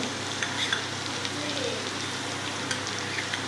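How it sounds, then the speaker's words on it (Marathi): Red chili powder with ginger-garlic paste sautés in hot oil, a soft continuous sizzle with faint scraping stirs and small crackles throughout. "करूया पूर्ण असं तेलामध्ये परतून घेऊया"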